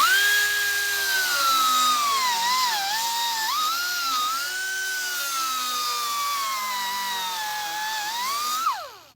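A pneumatic air grinder cuts a NACA duct opening into a race car body panel, whining steadily at high pitch with slight shifts in speed as it works along the line, then spinning down at the end.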